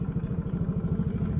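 A motorcycle fitted with a Takayama cylinder block idles smoothly, its engine putting out a steady, even low thrum of rapid regular pulses, close and alone.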